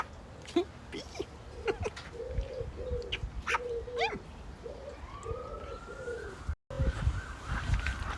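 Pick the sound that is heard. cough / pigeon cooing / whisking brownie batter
pigeon cooing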